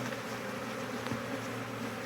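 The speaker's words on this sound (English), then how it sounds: "That's a whole nother swarm right there." A dense swarm of honey bees buzzes steadily all around, a thick continuous drone with layered overlapping hums, close and loud with no talk.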